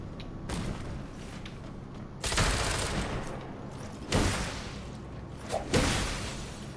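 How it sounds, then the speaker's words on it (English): Enemy gunfire in AI Limit on a sunken city rooftop street breaks out in several sharp, loud bursts of shots spaced a second or two apart over a low ambient bed. "The guy that's shooting us is now behind us."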